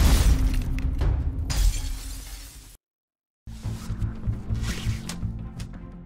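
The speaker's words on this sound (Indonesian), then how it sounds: "kaca itu pecah juga" Glass window shattering after objects are thrown at it, a dense crash of breaking glass filling the first few seconds, then a short silence before more clattering debris and crunching fragments follow.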